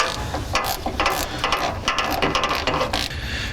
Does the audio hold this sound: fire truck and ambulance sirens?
no